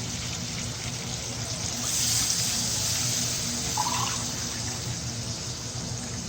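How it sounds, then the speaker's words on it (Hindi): Water runs steadily for several seconds, a continuous splashing pour into a cooking pot of fried spices for fish curry, with no talking. "अब इसमें डालेंगे पानी। पानी नाप के डाल लेते हैं।"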